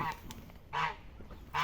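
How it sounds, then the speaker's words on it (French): Ornamental ducks in a breeding aviary give three short, honking calls spaced about a second apart, moderately close over quiet background noise. "Là il y a tous les canards d'ornement de mon élevage."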